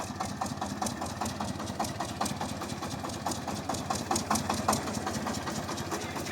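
A Shifeng SF-240 mini tractor engine runs close by with a steady, rhythmic knocking chug, rising slightly as it is revved, loud and continuous without talk.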